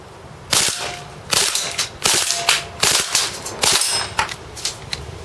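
A Cybergun KWC Desert Eagle CO2 airsoft pistol fires on full auto in several sharp bursts, rapid snapping cracks with gassy hiss, loud and close, separated by short pauses.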